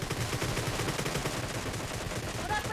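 Rapid bursts of gunfire in the mobile battle royale game PUBG Mobile, a steady stream of shots at moderate distance with a faint voice underneath.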